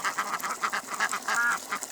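A small group of Rouen and Swedish blue ducks quacks in rapid, overlapping bursts, close by and lively, with a slightly longer call near the end.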